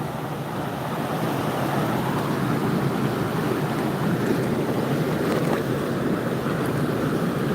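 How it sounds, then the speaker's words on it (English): Water sloshing and rinsing gravel in a gold pan in Alaska, a continuous broad rushing wash, loud and close, steady throughout with no talk. "I'm gonna rinse some of this out, just a little at a time."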